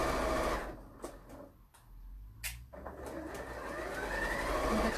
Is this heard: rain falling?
no